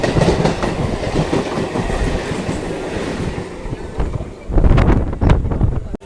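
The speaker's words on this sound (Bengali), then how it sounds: "আমাদের ট্রেনটা ঢুকছে এখন বেলু স্টেশনে" A local train on the Katwa–Howrah line rumbles along the tracks into Belur station with a rushing roar and rhythmic clatter, briefly easing off before surging loud again.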